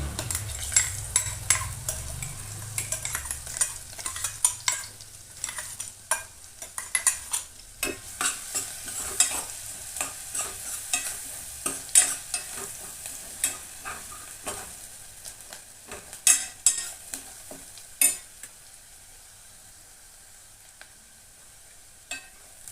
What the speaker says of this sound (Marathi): तेल गरम झालं की त्यात थोडीशी मोहरी, थोडंसं जिरं टाकायचं.